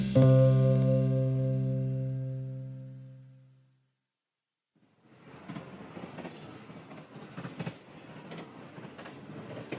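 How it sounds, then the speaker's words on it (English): A sustained tonal note fades out into a second of silence, then a subway train ride begins: a moderate rumbling cabin noise with scattered clicks and rattles from the carriage. "This is us, sitting in a subway train."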